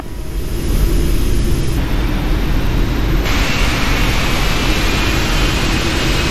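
Cathay Pacific Boeing 747-8 engines taxiing at Hong Kong in the Prepar3D flight simulator, a loud, steady, broadband roar that holds constant throughout, with no voices.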